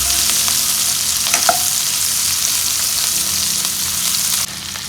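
Chopped onions sautéing in a pan for chana masala, a loud, steady sizzle and frying hiss with a few clinks of stirring, no voices, dropping slightly at the very end.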